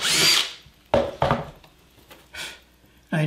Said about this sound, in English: Pre-drilling the holes.